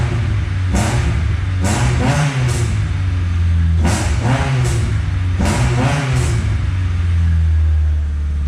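A car with a nearly straight, raspy exhaust revs in three quick bursts, each blip rising sharply and dropping back to a throaty idle, loud and close with no talk over it.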